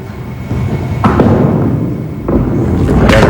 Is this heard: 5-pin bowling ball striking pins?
yes